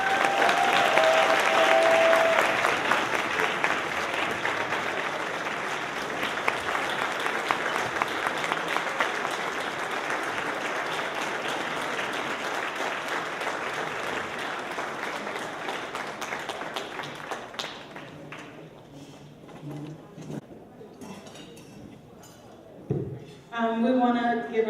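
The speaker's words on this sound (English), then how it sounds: "We want to give a round of applause for our keynote speaker one more time." A gala audience applauds the keynote speaker in a large hall, sustained dense clapping for most of the time before it thins out, with voices and a few scattered claps near the end.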